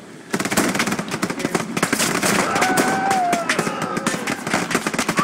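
Frag grenade blast in Hell Let Loose on the Sainte-Mere-Eglise map, a sudden loud burst that launches into dense, crackling gunfire and rapid explosive pops, with faint shouted voices in the chaotic battle din.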